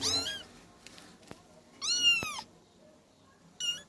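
A kitten meows loudly and insistently to be let outside, three separate drawn-out cries with short pauses between them, close by and with no talking.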